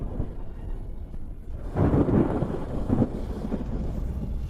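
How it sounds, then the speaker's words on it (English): Thunder sound effect for a ninefold lightning tribulation in a fantasy drama: a low rumble that swells into a heavy rolling crash midway, then a lingering grumble. It is loud and deep, with no voices over it. "The ninefold lightning tribulation has arrived."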